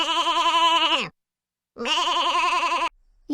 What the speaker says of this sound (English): You guessed it, it's a sheep.